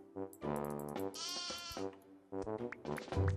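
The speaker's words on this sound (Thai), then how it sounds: "เจ้าแกะมานี่ก่อน" Sheep in the Mini World: Block Art video game bleat in a few loud, wavering cries one after another, close and clear with no talking over them.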